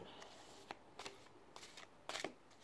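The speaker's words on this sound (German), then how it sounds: "Und ich bin am Mischen." A Flying Heart tarot card deck is shuffled by hand in soft, quiet bursts of papery riffling, with short pauses between them.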